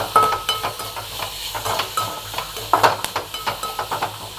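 Green peas are sautéed in a pan with salt, with a spatula scraping and stirring in quick rhythmic strokes over a soft sizzle, close and clear.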